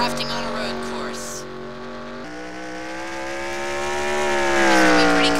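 NASCAR stock cars drafting nose to tail on a road course in a 2018 race, their engines roaring loudly and sweeping up and down in pitch through shifts and acceleration, with commentary talking over the whole stretch.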